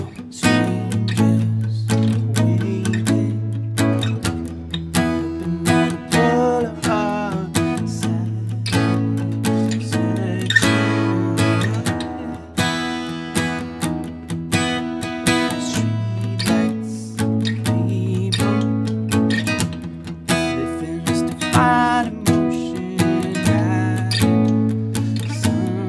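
An acoustic guitar plays the chorus of a song, with steady strummed chords and a repeating bass pattern in a clear, close, continuous performance and no talking.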